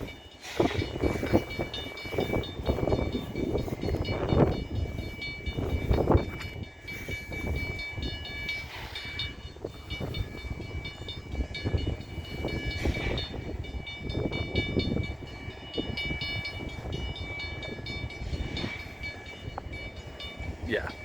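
A CN freight train rolls past a railroad crossing, a continuous loud rumble and clatter of wagons with a steady bell-like ring at the crossing, while a person talks over it.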